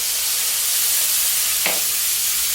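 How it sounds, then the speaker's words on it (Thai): Long beans and minced pork stir-fried with oyster sauce, light soy sauce, seasoning powder and a little sugar give off a loud, steady, close hiss of sizzling, with one brief scrape of the spatula partway through. "ผัดให้เข้ากัน ใครชอบแห้งๆก็แบบนี้เลยนะคะ"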